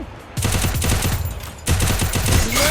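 Rapid automatic gunfire in the video game Free Fire, two loud sustained bursts of closely spaced shots separated by a brief pause, close and dominant.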